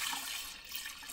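Filtered makgeolli Korean rice wine, still carrying rice and nuruk solids, being poured back into a jar, a steady close liquid splash and trickle that runs unbroken for about a second with no voices.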